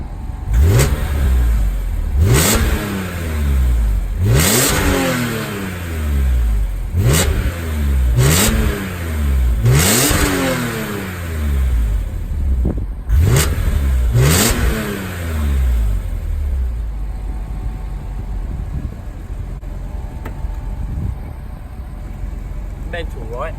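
A carbon black BMW M3 E46 with a quad exhaust and SMG gearbox revs hard in a series of about eight sharp, loud blips close by, each rising and falling quickly, before settling into a low idle.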